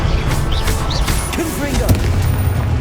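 Blasting-spell explosions in a Hogwarts Legacy battle: dense rumbling booms and cracks pile up over a continuous low roar, with faint chirping sweeps and a voice murmuring underneath.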